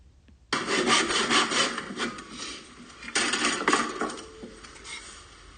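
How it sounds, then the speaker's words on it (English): A hand saw cuts through wood in close, loud back-and-forth strokes, a rasping rhythm that starts abruptly, pauses briefly midway, then resumes with several more even strokes. "start at an angle and then bring the saw straight"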